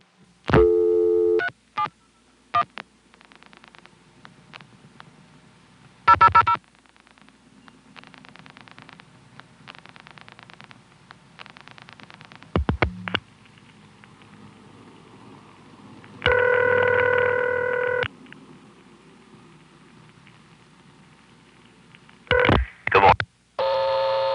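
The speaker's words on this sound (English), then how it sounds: "Here's a call to 371, and you'll notice that after the 3rd digit, it immediately picks the trunk and dials 71." A Stromberg-Carlson ESC telephone exchange from 1976 in Chancellor, Virginia places a call, with bursts of dialing and tones followed by a quieter stretch of rapid trunk dial pulsing, then further tone bursts and clicks.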